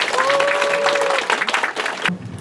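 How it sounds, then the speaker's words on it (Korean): Dense audience applause fills a lecture hall during a city mayor's citizens' talk in Sejong, steady and loud for about two seconds before cutting off abruptly into a quieter room. "팀에게 다시 한번 큰 박수 부탁드립니다."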